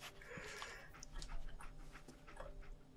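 A dog pants quickly and rhythmically in the Fallout 4 video game, close by and fairly quiet, with a faint whimper or two mixed in.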